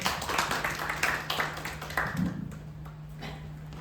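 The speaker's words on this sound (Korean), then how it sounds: "큰 박수로 맞이해 주세요" A modest audience at a study group orientation session claps to welcome the next presenter, a few seconds of scattered, moderate clapping that thins out toward the end, with a steady low hum in the room.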